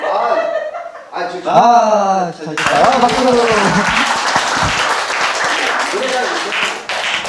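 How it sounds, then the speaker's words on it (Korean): Lecture audience laughs and then breaks into dense, steady clapping that fills the room, following a burst of voices and chuckles at the start. "박수."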